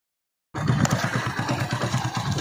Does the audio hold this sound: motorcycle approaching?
yes